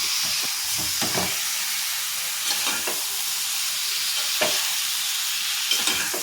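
Spices tossed together in a hot frying pan for a black vajadi masala hiss and sizzle steadily, broken by repeated scraping strokes of a spoon stirring, close and continuous with no talk.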